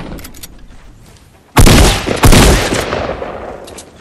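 Gunfire in Fortnite fires as two loud, close blasts about a second apart, each with a sharp attack and a fading tail, following a quieter stretch of faint game sounds.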